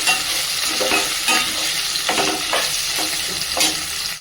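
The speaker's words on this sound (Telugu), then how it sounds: "ఆలుగడ్డలు ఇట్లా రోస్ట్ అయిపోయినాయి" Potatoes roasting in hot oil in a pan, a continuous loud sizzle with repeated scraping strokes of a spoon stirring every second or so, close up and without talk.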